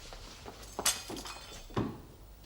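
A knife dropped onto a floor in a domestic setting, giving a bright metallic clatter followed by a second duller knock about a second later, close by with no talk.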